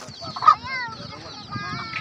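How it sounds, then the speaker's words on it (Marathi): Chickens being let out of their coop give brief clucks and squawks at close range, with people talking nearby. "कोंबड्या सोडायचं चाललंय वाटतं"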